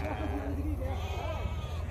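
Sheep bleating among a flock of about thirty at a livestock market in Egypt, continuous overlapping bleats and crowd noise with someone talking throughout.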